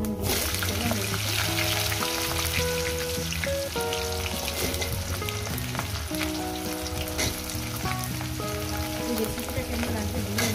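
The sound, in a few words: vegetables frying in pan with five-spice tempering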